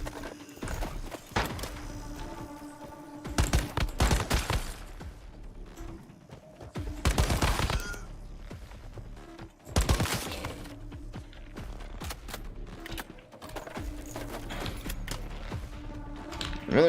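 Gunfire in the video game Once Human comes in loud rapid bursts and single shots over a busy game soundscape, with dense crackling volleys repeating across the clip.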